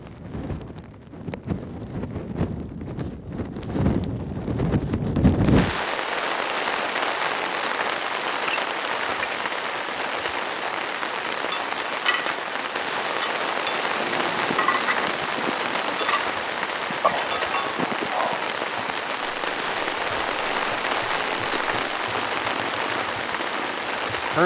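Heavy rain pours down steadily at a mountain camp in Alaska during a storm, a dense unbroken hiss that opens with a few seconds of rumbling, wind-buffeted noise before settling into a constant loud downpour.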